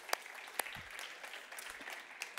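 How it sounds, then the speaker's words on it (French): Audience applause after a stage performance, faint and distant steady clapping with a few sharper claps standing out near the start and end. "Yes, on peut les applaudir."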